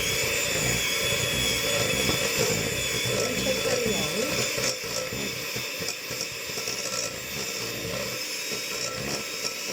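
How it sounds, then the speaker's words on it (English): An electric mixer beats sponge cake batter with a continuous buzzing whirr, moderately close and steady throughout, while someone speaks over it. "I'm going to, just for speed, mix it with a mixer"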